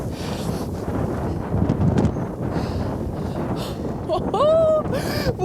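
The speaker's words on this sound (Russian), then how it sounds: "ветром сдувает" Strong wind gusts buffet the microphone on the Aiguille du Midi observation deck high on Mont Blanc, a loud continuous roar with people talking through it.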